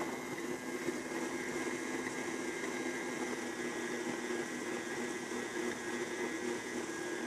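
An electric mixer runs steadily on low speed through cake batter with dry ingredients for a maple walnut apple upside-down cake, a faint, even motor whir with no pauses.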